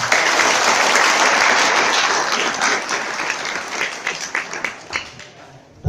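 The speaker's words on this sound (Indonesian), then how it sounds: "Beri aplaus kita semua." Audience applause at an Indonesian Islamic school event, a dense sustained clapping from a large crowd that thins into scattered individual claps near the end, with a voice speaking over it.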